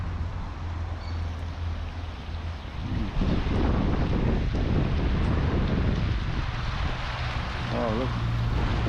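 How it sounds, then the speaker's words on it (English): Wind gusting through an open Chinese garden in Malta, a steady low rumble buffeting the microphone throughout, loudest in the second half, with faint talk in the background. "Wow, the wind picking up, guys."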